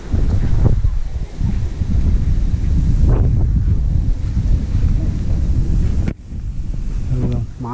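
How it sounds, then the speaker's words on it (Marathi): Strong, gusty wind roars steadily across a coastal village during a stormy rainy spell, loud and buffeting against the microphone, with a brief lull near the end where faint voices or tonal sounds come through. "गावात वारा बघा किती आहे ते"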